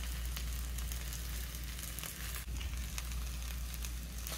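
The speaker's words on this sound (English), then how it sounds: "take some of our eggs and crack them into there" Eggs hitting a very hot pan of crispy rice and sizzling hard: a loud, continuous frying hiss with scattered crackles and pops.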